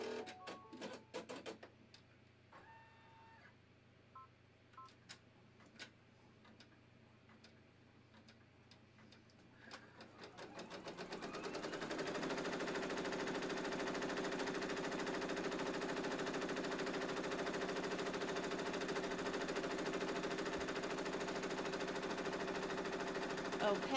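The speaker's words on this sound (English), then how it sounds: "Now we're going to embroider the design." Embroidery machine stitching out a buttonhole design, starting with sparse quick ticks and clicks, then settling into a continuous, steady mechanical whirr with rapid needle chatter that runs to the end, no talking.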